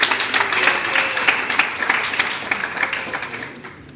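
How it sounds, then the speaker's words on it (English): An audience at a community engagement awards ceremony claps for a foundation, dense steady applause from a crowd filling the room throughout. "Let's give them a round of applause."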